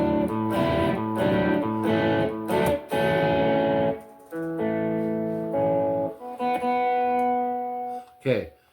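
An electric guitar through a distortion effect, chords held and restruck in a rock and blues style, sustained and loud with short gaps between phrases and a final quick strum.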